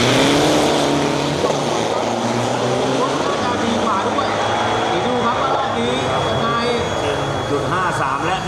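Isuzu turbo diesel drag trucks race at a Bangkok drag strip, their engines roaring and shifting pitch in the distance under constant crowd noise and voices.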